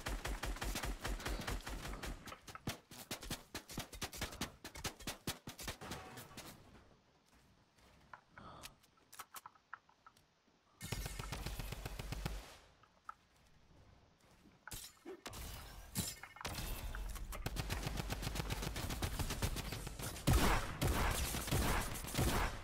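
Shotgun fire in the video game Fortnite, a long run of loud rapid blasts and shattering hits, with a quieter stretch in the middle before heavy firing returns.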